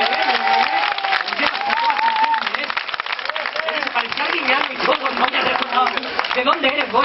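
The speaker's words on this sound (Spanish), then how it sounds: "¡Fuerte el aplauso para Bilbao!" An audience applauds at a Spanish TV game show, a dense, steady clatter of clapping hands heard through band-limited broadcast sound, with voices talking loudly over it throughout.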